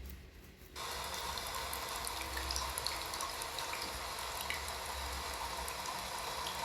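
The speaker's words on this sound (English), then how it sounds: "the water was falling on the bottle" Water pouring steadily onto a bottle, a continuous close splashing rush that starts abruptly and holds at an even level throughout, with no voices.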